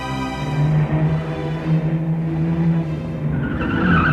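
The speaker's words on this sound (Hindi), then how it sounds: "गाड़ी की आवाज।" A car drives fast with tires skidding and squealing in a continuous loud roar, engine drone steady throughout with a rising screech near the end.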